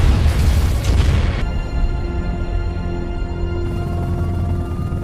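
A loud, deep car explosion in a film rumbles through the opening second, then fades into a steady low drone with faint tonal hum beneath it.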